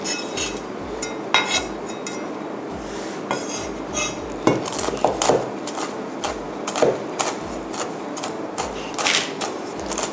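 A knife coarsely chopping Thai bird's eye chilies on a cutting board, rapid irregular knocks and taps of the blade against the board over a steady background hiss, close and without talk.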